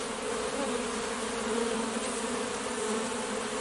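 Honeybees buzz in a dense, steady drone during an open beehive inspection after a cold spell, the hum close and continuous with no voices.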